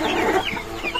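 Silkie chickens on a poultry farm make a short burst of close, loud clucking, one second of overlapping fowl calls.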